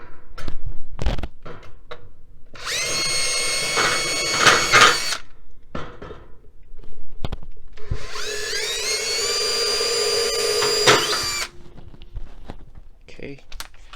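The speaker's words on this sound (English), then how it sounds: "now I'm going to go ahead and drill the other 3 pilot holes with the 1/16 inch diameter drill bit" A power drill with a 1/16 inch bit whines through two long bursts while boring pilot holes for a CAMCO stove top cover, each run a few seconds and close up, with short clicks and handling noise between them.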